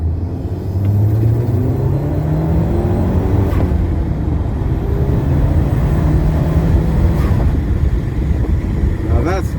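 An Audi A4 B8 2.0 TFSI Quattro with an oil consumption and oil pressure problem drives in second gear, a loud continuous engine and road rumble with rising tone as it pulls.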